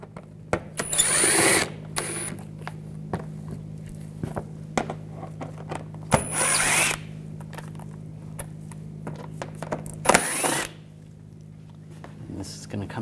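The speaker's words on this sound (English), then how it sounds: "T25 socket. Take these screws out." Power tool driving out screws with a T25 socket on a 2011-2018 VW Jetta 2.0L TDI during intake manifold work, in three short whirring bursts separated by quieter shop noise and faint handling sounds.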